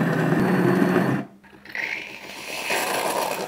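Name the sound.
connected bean-to-cup coffee machine frothing milk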